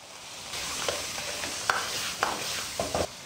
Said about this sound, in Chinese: 然后下入番茄